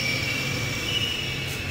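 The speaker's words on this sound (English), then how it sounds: "Futuristic bullet train." In The Longest Journey video game, a futuristic bullet train rushes past with a steady rumbling roar and thin high metallic whine, even and sustained at moderate loudness, with no voices.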